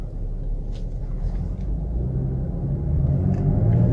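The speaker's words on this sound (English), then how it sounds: "let's just see how it drives in a parking lot while we wait for Colin." A 2017 Chevy Camaro V6 pulls through a parking lot, its low engine rumble steady and heard from inside the car. It grows slightly louder over four seconds, with faint clicks and no talking.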